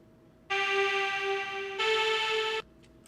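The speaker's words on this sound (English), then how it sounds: "and then this is the EMS poly preset" A sustained EMS poly synth preset from Serum 2 sounds two held chords in a row, bright and harmonic, each cut off cleanly with quiet gaps around them.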